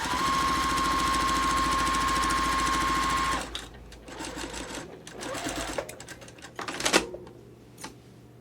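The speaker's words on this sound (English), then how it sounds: "So I'm going to stitch on that stitch line." A sewing machine stitches a quilt block for a pinwheel star sampler, running loud and steady for about three seconds before stopping, followed by quieter handling clicks and rustles of fabric.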